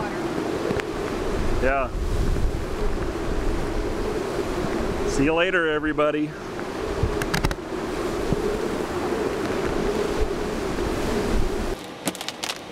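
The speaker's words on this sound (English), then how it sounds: "The wind was really, really strong." Strong Hurricane Isaac wind buffets the microphone beside a shore as waves crash in a constant loud roar, while people talk briefly over the gusts.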